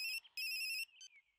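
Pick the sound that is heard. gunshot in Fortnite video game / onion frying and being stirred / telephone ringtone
telephone ringtone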